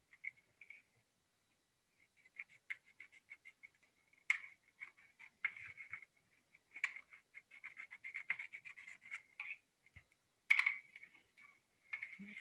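Small crisp snips and clicks as scissors trim the uneven paper edges of a pop-up thank-you card, coming in quiet irregular bursts close by with short pauses between cuts.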